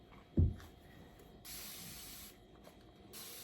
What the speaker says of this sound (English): spray it with water, let it drip.